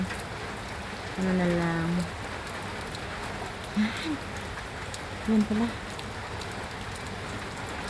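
Steady rain falls in the Middle East, a broad, even hiss of drops that continues throughout, with a few short spoken phrases over it.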